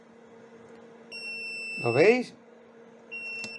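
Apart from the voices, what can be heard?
automatic egg incubator alarm beeping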